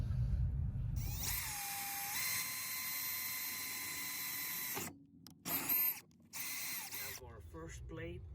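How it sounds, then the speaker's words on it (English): A power drill bores holes in a steel plate with a sustained high mechanical whine that runs several seconds. It then cuts off and restarts in short bursts, close and fairly loud. "So we put that bolt into it, and then we start drilling."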